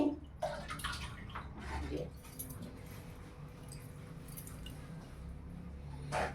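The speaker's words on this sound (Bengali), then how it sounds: "নিম পাতাটা যেহেতু রাস্তার ধারে ছিল, তাই আমি এরকম এক বালতি জলের মধ্যে দিয়ে ডুবিয়ে তারপরে এই যে ধুয়ে তুলে নিচ্ছি" Roadside neem leaves are dunked and washed in a bucket of water, with close splashing and squishing at the start and again at the end and quieter sloshing in between.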